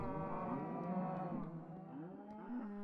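Cattle in Minecraft lowing continuously, overlapping drawn-out moos from more than one cow, steady and fairly close, with no talk over them.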